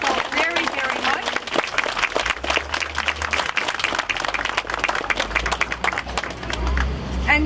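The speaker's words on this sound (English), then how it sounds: "can we get a round of applause for the wonderful pipers that are opening our ceremony this morning?" Crowd applause at an outdoor morning ceremony unveiling stone lions at a Chinese gate in Toronto, following bagpipers; steady dense clapping fills the whole stretch, loud and close, with a voice faintly audible beneath.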